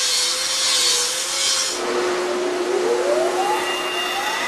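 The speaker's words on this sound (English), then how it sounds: "Next, workers grind down the irregular welded sides of each blade." An angle grinder works the rough welded sides of industrial shredder blades, giving a steady, loud abrasive grinding with a sustained whine that shifts pitch partway through. No one speaks.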